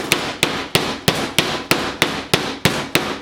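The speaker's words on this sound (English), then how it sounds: "I do have a nice little hammer that's got the needles in it." A needled meat-tenderizing hammer pounds a steak for Swiss steak, ten sharp, evenly spaced thwacks in a steady rhythm, close and distinct with no talking.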